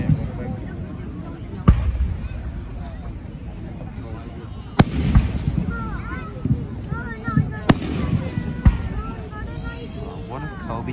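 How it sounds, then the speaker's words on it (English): Several sharp Fourth of July firework bangs go off a few seconds apart, loud and close, with voices chattering in between. "Imagine with Jesus controlling fireworks."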